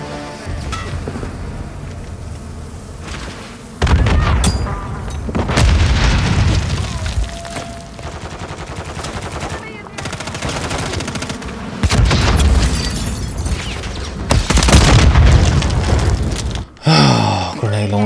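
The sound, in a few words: grenade launcher explosions in the video game Call of Duty: Modern Warfare 3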